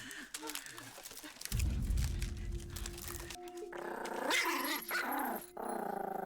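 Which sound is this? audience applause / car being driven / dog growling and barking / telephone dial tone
dog growling and barking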